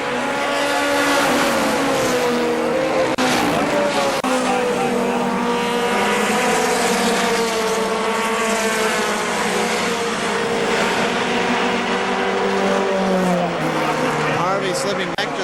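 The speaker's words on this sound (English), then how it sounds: "Contact between Frank Harvey and the 6 of Ron Wells. Battle for third" Race trucks roar around the KilKare Speedway oval, engines droning and rising in pitch as they pass, loud and continuous under a race announcer's commentary.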